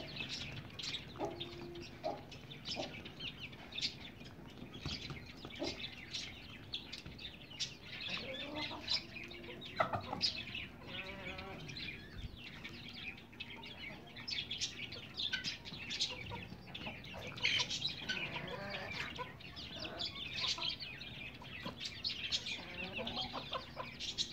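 Pakistani hens cluck over and over at close range, a busy, overlapping chorus of short calls that carries on steadily without any talking.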